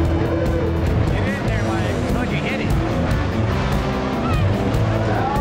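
Race cars roar around the Ventura dirt racetrack, a steady loud engine drone with cars passing by, mixed with crowd or announcer voices underneath throughout.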